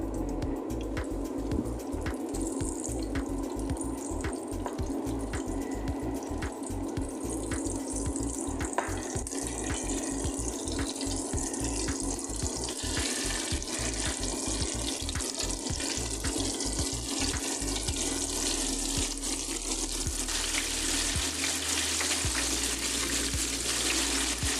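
Flour-dredged chicken wings drop into preheated oil and deep-fry with a steady, dense sizzle and crackle, close and even throughout, without speech.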